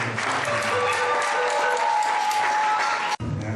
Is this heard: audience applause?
yes